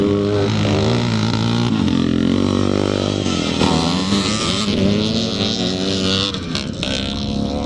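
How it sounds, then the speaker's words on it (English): Classic motocross bikes, including a 360 Yamaha, a CCM, a CZ and a TT500 Yamaha, race at Strathaven in Scotland, engines revving and droning loudly in an overlapping roar as several machines pass. "Ian Robertson on the 360 Yamaha in fourth"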